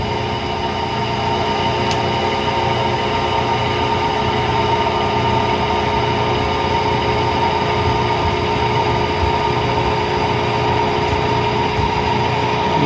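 A K&T milling machine runs steadily, a constant mechanical whir and hum with tonal whine, while it takes a light spring pass on a steel Spitfire axle adapter, unbroken throughout.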